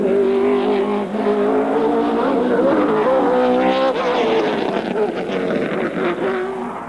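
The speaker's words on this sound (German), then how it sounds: "Bei voller Beschleunigung bleibt ein Gang nicht einmal 3 Sekunden eingelegt," A 2003 BMW 320 race car with a Judd V8 accelerates hard on a hillclimb, its engine note climbing through rapid gear shifts; loud and continuous, with a steady high-revving drone throughout.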